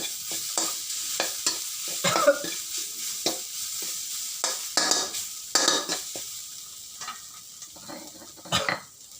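Northern Thai curry with buffalo tendon is stir-fried in a pan: a continuous sizzle runs under repeated close scrapes and clatters of a utensil working the pan in an irregular, busy rhythm.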